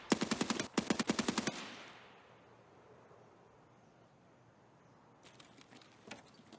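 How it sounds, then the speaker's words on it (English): SA-58 rifle fire in the video game Escape from Tarkov: two quick bursts of rapid, loud shots, then a fading echo and quiet, and a further burst of fainter, more distant shots near the end. "What gun is that? Is that a SA-58?"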